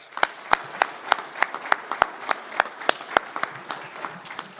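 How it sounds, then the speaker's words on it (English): Scattered applause from a modest conference audience, individual claps distinct and uneven, moderately loud and steady throughout with no talking. "let's give them both a round of applause."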